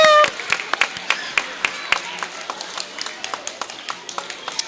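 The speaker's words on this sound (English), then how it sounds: "let's give a round of applause" Audience applause at a school event, starting with a burst then thinning into sparse, separate claps that fade over a few seconds.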